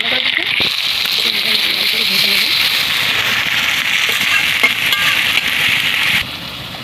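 Chopped onion dropped into hot oil with bay leaf, dried red chillies, cinnamon, cloves and cardamom, giving a bright steady sizzle close by, with someone speaking over it.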